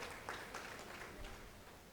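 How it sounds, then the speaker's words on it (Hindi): Audience at a national awards ceremony applauds, a soft, continuous wash of clapping that sounds distant and faint, with no clear voices. "एक बार जोरदार तालियां हो जाएं जल्दी से"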